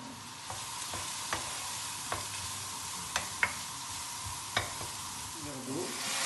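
Chopped garlic and onion with Italian spices fry in olive oil in a large wok, giving a steady close sizzle broken by a few light clicks of a utensil stirring.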